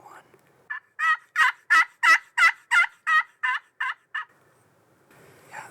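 A wild turkey in a neighbor's yard gobbles in a rapid rolling series of about a dozen pulses over three seconds, fairly close and clear against a quiet background.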